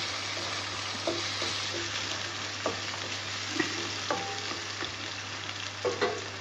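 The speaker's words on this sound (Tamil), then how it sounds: "வெங்காயத்தையும் பூண்டையும் நல்லா வதக்கிக்கணுமா?" Onion and garlic sauté in a pan for fish kulambu, a continuous close sizzle with scattered spoon scrapes and taps against the pan, over a faint steady hum.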